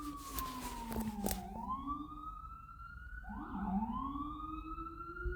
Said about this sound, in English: Whenever I hear an ambulance, I need to not be annoyed that they're passing by